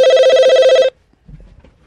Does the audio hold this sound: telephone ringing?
yes